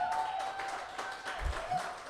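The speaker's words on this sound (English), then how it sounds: "why don't we clap for Rennie and Randolyn, too?" A gala and auction audience gives a short burst of clapping that sounds a little distant, with a low thump partway through and a voice faintly audible under it.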